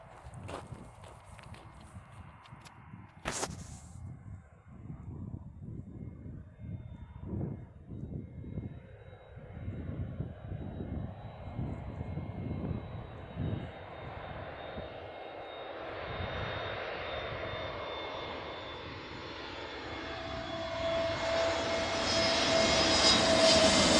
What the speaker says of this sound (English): I think I've got an Airbus A320s plane on the cards.